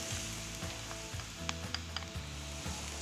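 Artichokes, onions and garlic sizzle steadily in a pan on a Greek cooking show set on Tinos, with a continuous close frying hiss broken by a few sharp pops and soft stirring scrapes.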